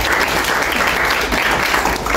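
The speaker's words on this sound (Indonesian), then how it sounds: "Tepuk tangan buat kita." Indoor audience at a Pancasila ideology session for Paskibraka flag-raising youth in South Jakarta clapping, a dense steady round of applause heard up close.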